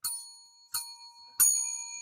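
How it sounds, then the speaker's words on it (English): Three bright metallic rings from a small bell, each struck separately with a pause between, the last one louder and left to ring on with a shimmering tone. "And here's the old silver bell."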